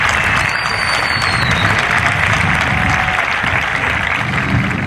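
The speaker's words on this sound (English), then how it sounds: "Let's first off give the class of 2017 a round of applause for making it to this day" A graduating class of 2017 receives steady, dense applause from a commencement crowd, a continuous wash of clapping that holds evenly throughout.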